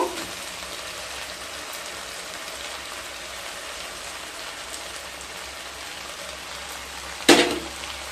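Fried potatoes and marinated soybeans go into a hot pan for soybean do pyaza, giving a steady, soft rain-like sizzle throughout, then a brief loud clatter near the end.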